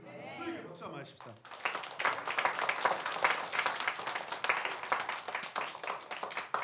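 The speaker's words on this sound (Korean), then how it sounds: "저에게 박수 한번 하십시다" A church congregation during a Korean sermon breaks into sustained, dense clapping after a brief spoken moment at the start, the applause filling the room fairly near and steady to the end.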